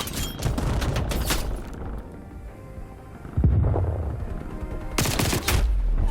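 A sentry gun in Call of Duty Black Ops Cold War fires loud, rapid automatic bursts, stopping and restarting in several close, punchy volleys with a short lull in between.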